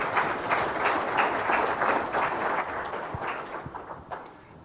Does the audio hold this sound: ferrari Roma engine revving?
no